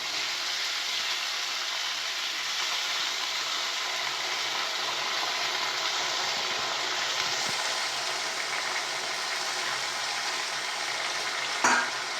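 Red lentils frying in a pan while cooking a banana flower dish, with a steady, even sizzle and frying hiss throughout and a brief stir or clatter near the end.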